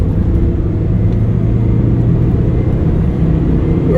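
A 2020 MAN TGE 3.180 box van running empty and pulling away onto a dual carriageway, a steady low engine drone and road rumble heard from inside the cab, with no talking.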